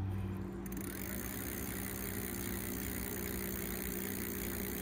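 A TST electric bike's motor spins freely on throttle while the bike leans on its heavy-duty kickstand, giving a steady, close, continuous hum with a faint whine and no talking.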